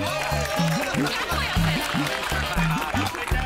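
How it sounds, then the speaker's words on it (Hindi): An audience claps in a comedy series, a dense and loud patter of hands running throughout over a repeating low musical beat, with some laughter mixed in. "तालियां बजाओ सब लोग इनके लिए।"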